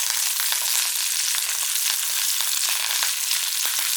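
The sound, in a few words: frying monkfish in oil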